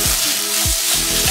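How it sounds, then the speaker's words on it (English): Egg fried rice with black pepper sizzles loudly in a pan over high flame, a steady close frying hiss with a few rhythmic stirring scrapes. "Mix it well, cook in high flame for another 2 minutes."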